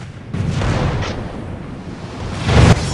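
A naval mine detonating under an enemy ship in a destroyer battle game, with a deep rumbling blast that swells early, sustains as a low roar, and surges again with a heavier boom near the end.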